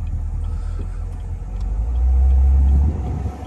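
Engine of a Chevrolet Camaro SS convertible building into a deep, loud low rumble as it accelerates from inside the car, then easing off.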